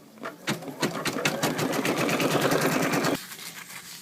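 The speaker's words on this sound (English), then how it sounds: "We're going to sew the placement stitch so we know where to put our design." An embroidery sewing machine runs a placement stitch, a fast rhythmic mechanical stitching patter that starts abruptly, holds steady for about three seconds and then stops, close and loud.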